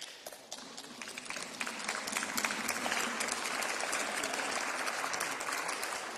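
Sustained applause fills a large parliamentary chamber in the European Parliament, dense steady clapping from many hands that swells slightly and holds at a moderate, distant level throughout.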